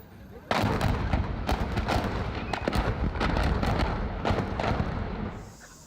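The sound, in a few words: explosives detonating in a dump truck's cargo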